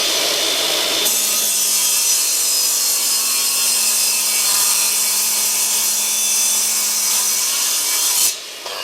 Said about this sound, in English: just going to see if it can cut, and using this bit of timber to clean the blade up a little bit